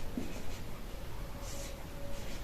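Chalk or marker scratching on a board while a math formula is written out, a quiet, steady scraping texture running throughout with no speech.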